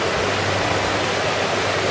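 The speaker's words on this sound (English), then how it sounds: "you can hear the water in the background" Waterfall and rushing water in a mountain valley along the John Muir Trail, a steady broadband roar that fills the whole clip, even and continuous with no voices.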